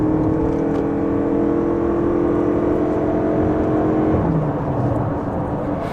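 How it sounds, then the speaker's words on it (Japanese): Toyota Crown Crossover hybrid (AZSH35, 4WD, four-wheel steering) on the road, a steady interior drone of engine and tyre noise with a tonal whir that shifts pitch partway through. "そして今回の後半は私ヒラリー男爵が燃費見ながら走行します。"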